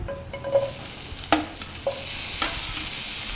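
Chopped onion fries in a pan with a soft continuous sizzle, punctuated by a few sharp scrapes and taps of a spoon stirring against the metal.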